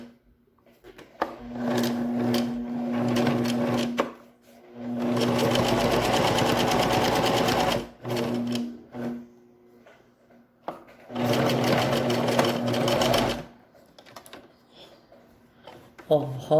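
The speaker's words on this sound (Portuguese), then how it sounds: "vou costurar o outro lado pra vocês verem agora" Sewing machine stitching along the other side of a piece of fabric, running in two long loud bursts of steady whirring motor and needle chatter, with short pauses and some speech between them.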